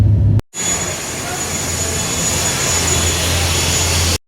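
Aircraft engines whine and roar steadily beside a plane at a Philippine airport before boarding for Cebu, a loud continuous drone with a high tone running throughout, cut briefly by a gap near the start.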